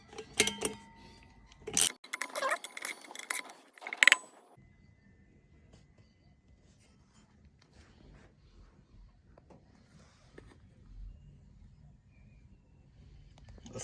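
A 16mm socket wrench works on Harley-Davidson Rocker C rear pulley bolts, giving a few seconds of close metallic clicks and clinks, followed by a long quiet stretch of faint workshop noise.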